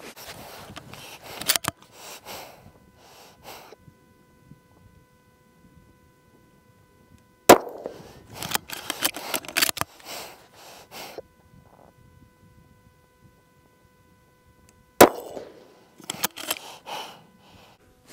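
Rifle shots fired while sighting in a scope: a few sharp, loud cracks several seconds apart, each trailing off in a short echo, with quiet outdoor stretches between.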